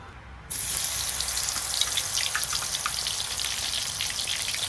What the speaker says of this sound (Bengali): এখন আলু এঁচোড় সব ভেজে নেব।